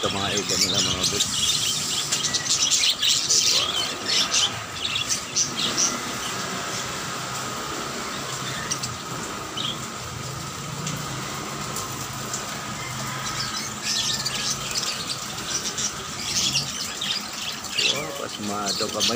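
Many birds chirp and squawk in a busy chorus, with people talking quietly at times beneath the calls.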